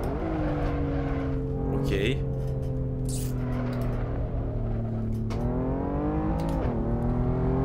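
A 2016 Lamborghini Aventador SV with a 750 hp engine drones steadily while driving, its pitch rising and falling with the throttle, close and continuous, with a voice speaking briefly over it.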